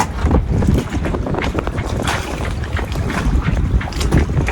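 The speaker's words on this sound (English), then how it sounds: "we have here a wind turbine, which is spinning actually." Strong gusty wind roars across the microphone, with a constant whirring hum from a wind turbine spinning on a Dufour 375 Grand Large sailboat and water sloshing beneath it.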